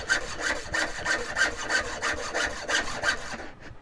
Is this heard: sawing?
yes